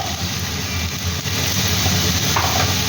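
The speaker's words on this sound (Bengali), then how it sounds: "আবারও খানিকটা নাড়াচাড়া করে নেব" Chicken pieces stirred in a hot pan for a home-style chicken stew, a steady sizzle and frying hiss with soft scraping throughout, close and continuous.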